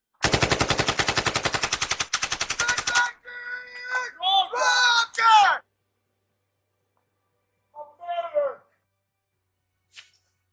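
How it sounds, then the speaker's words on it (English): Rapid machine gun fire bursts loudly for about three seconds in a Nigerian action movie, followed by sharp gunshot-like hits and effects, then quieter scattered bursts and a final faint click. "That's a gunshot."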